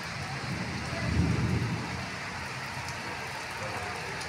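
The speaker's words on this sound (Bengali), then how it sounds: "হুড় হুড় করছে মেঘ।" Heavy rain pours steadily throughout, with a low rumble of thunder swelling briefly near the start and then fading back under the hiss of the downpour.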